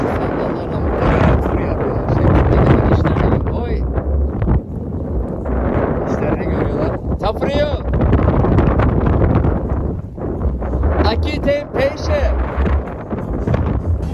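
Strong wind roars and buffets the microphone throughout, loud and rumbling, while a person talks over it.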